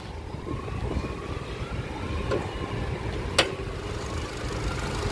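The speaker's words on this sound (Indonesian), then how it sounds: "Ini mesin suaranya masih halus." A 2007 Nissan Grand Livina XV manual MPV engine idles smoothly up close, a steady low hum with an even rumble and a brief faint click partway through.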